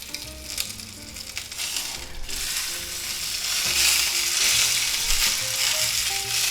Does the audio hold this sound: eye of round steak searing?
yes